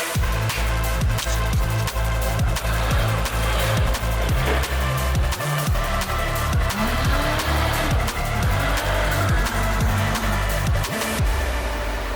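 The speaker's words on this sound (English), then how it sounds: "All set up on the dyno, just letting it warm up a little bit and get up to temps" Hyundai Genesis 2.0T engine running on a dyno during warm-up, with loud, continuous engine roar and rising and falling revs alongside music, without speech.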